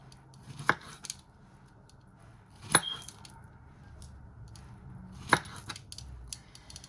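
A knife slices plantains on a board, three distinct sharp chops spaced about two seconds apart, close and clear against a quiet background.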